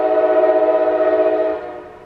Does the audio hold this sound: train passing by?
yes